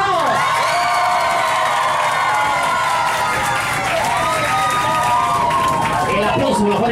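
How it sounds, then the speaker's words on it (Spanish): A crowd aboard a dance show cheers, whoops and shouts for a competing couple, a dense, loud and continuous wave of excited voices and applause. "El aplauso para la pareja número 2."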